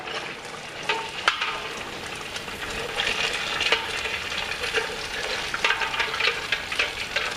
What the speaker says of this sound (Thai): แล้วก็ให้เราทอดต่อให้ด้านนอกสุกเหลืองกรอบ แล้วก็ตักขึ้น